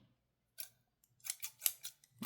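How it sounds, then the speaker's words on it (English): Fabric scissors snip through paper or card in a few quick, crisp cuts spaced close together, near and clear with no talking. "fabric scissors. I do own them."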